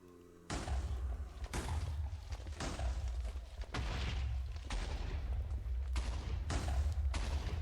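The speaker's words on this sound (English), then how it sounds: "Lets you just shoot fireballs." Fireballs shot at husks in a video game burst as a loud, continuous barrage of heavy booms and blasts, repeated impacts layered over a deep rumble, with no voices.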